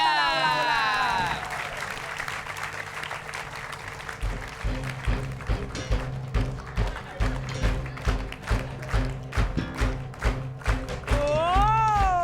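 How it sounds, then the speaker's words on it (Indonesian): An audience on a comedy show claps in a rhythmic pattern of repeated bursts, with a voice speaking at the start and again near the end. "Tepuk tangan dulu dong."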